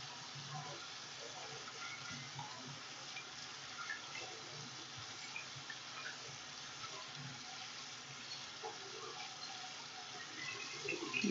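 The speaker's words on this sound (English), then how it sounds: "So now I rinse." Running tap water pours steadily into a sink as hands are rinsed, a quiet continuous hiss with light splashing throughout.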